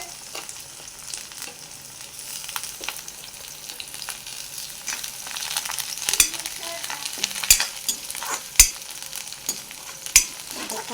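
Fresh coriander leaves frying in hot oil, a bright, steady sizzle up close with occasional sharp pops and spatula clinks, growing a little louder toward the end.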